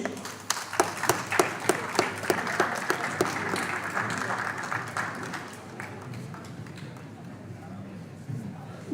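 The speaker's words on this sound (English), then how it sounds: "Give a big round of applause to Mr. Sriram sir and Mr. Rajalingam sir." An audience applauds award presenters on stage at a corporate awards event, with sharp distinct claps early that blend into steadier clapping and fade, a voice speaking over part of it.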